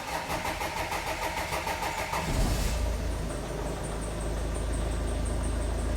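Diesel engine of an Opel Vivaro van with boost pressure and EGR faults cranks with a rapid churning starter whir, then catches and settles into a steady, loud idle up close.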